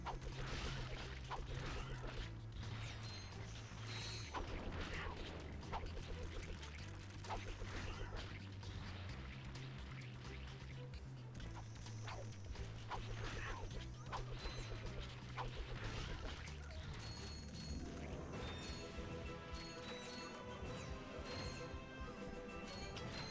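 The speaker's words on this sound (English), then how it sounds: "Throw your wrench, hold R1 and press Oh square. yeah, you can throw the wrench in this one." Ratchet and Clank 2: Going Commando gameplay with a thrown wrench striking enemies, repeated whooshes and metallic smacks over continuous game music and effects, with someone talking throughout.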